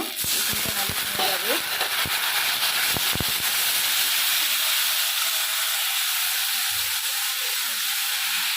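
Water poured into a hot pan with ginger paste and turmeric bursts into a loud, close steaming hiss. A few clatters of the spoon come first, and a spoken voice sounds over the hiss at the start.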